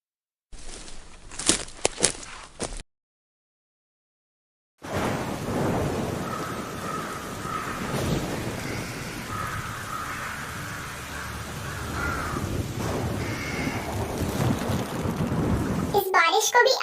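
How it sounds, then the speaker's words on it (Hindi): Heavy rain pours steadily with deep thunder rumbling through it, a continuous loud storm wash after a brief gap of silence, with short bursts of voices before and after. "इस बारिश को भी अभी आना था"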